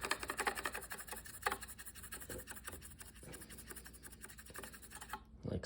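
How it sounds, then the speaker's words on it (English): Pencil graphite scratching steadily over paper taped onto a sewing machine's needle plate, a close, continuous rubbing rasp with quick back-and-forth strokes and no talking. "You just take a pencil, shade it all in"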